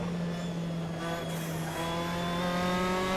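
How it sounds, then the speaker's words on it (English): Turbo whistle and hum from an RSS race car in a racing game, a steady engine drone with a rising whine, faint and continuous with no talking. "Nice little turbo noises in this RSS car"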